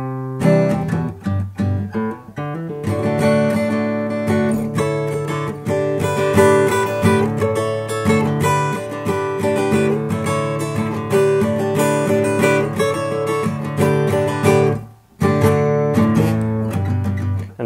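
A guitar plays the intro to a song, a continuous picked acoustic pattern of ringing chords and melody, loud and close with no talk, one brief pause near the end.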